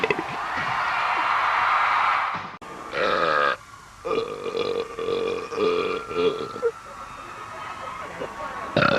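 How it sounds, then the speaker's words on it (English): A person lets out a long, loud, rumbling burp close to the microphone, followed by grunting and vocal noises with bits of talk and a crowd murmuring in the background. "I burped and farted at the exact same time."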